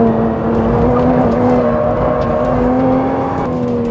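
A 2020 Nissan GT-R NISMO pulls hard with a loud, steady engine drone and sustained rising tone, heard from inside with no talking over it.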